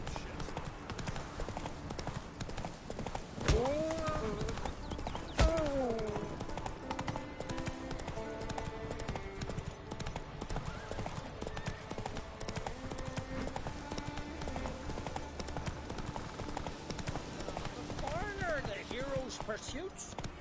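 The horse Roach gallops in The Witcher 3 with a fast, steady clip-clop of hooves throughout, while voices talk over it.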